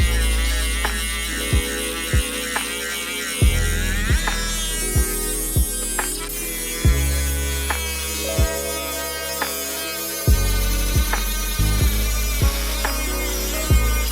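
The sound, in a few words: Ryobi 18V rotary tool cutting fake wood product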